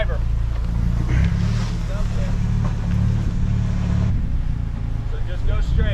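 An off-road vehicle reverses over rocks in Tie Rod Canyon, its engine droning steadily and loudly close by with a brief rise in revs, while voices talk over it.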